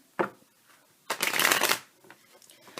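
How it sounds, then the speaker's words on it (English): A deck of tarot cards riffled close by: one short flick, then a longer rapid shuffle of about three-quarters of a second, fairly loud, with no talking. "Give one more shuffle here."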